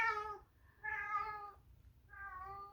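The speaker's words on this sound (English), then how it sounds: "She's walking around with a stuffed mouse in her mouth like it's a baby kitten and crying like a mama cat." A house cat gives three drawn-out, plaintive meows in close succession, each a wavering crying call like a mother cat calling for a kitten, close and clear in a quiet room.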